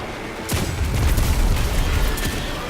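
Booming hip-fire gunshots in Destiny 2 go off in a loud, close cluster, several heavy blasts overlapping into a rumbling barrage that holds for a couple of seconds.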